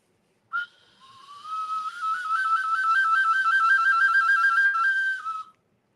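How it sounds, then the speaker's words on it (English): A carved skull whistle is blown in one long, steady, fairly loud tone that wavers slightly in pitch, close up, preceded by a brief puff of breath and with no talking over it. "No, it's a whistle."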